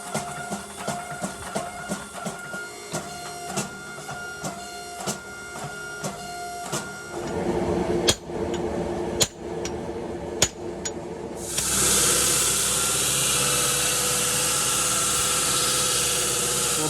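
A Damascus steel sword blade is worked in the shop: first a steady run of regular mechanical pulses and a few sharp clanks, then a loud, continuous hissing grind of steel against a belt for the last five seconds.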